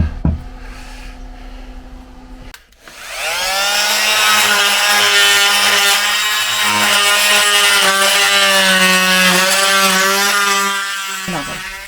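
A power saw cuts through the wooden board behind a fridge in a camper, a loud sustained whining buzz that starts abruptly after a few clicks and runs steadily for several seconds before winding down.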